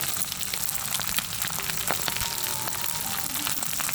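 Frog skin, first rubbed with salt and vinegar, fries in hot oil until crispy, making a dense, steady, close crackling sizzle that runs the whole time.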